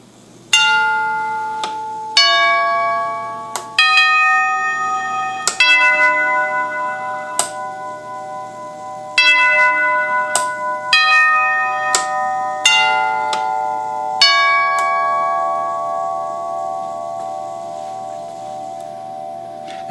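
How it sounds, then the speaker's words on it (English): A 1939 NuTone 8-note door chime rings through a long sequence of clear, struck metallic tones, notes landing in uneven groups and each decaying with a lingering ring, close and fairly loud with no voices. "that's more or less what a NuTone 8-note chime from the late 1930s sounds like"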